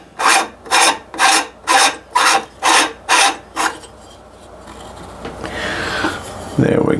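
A SkyWatcher EvoFrame camera rotator is screwed into a telescope focal tube, making seven or eight close, regular rasping turns of metal threads, followed by quieter handling noise and a short voice near the end.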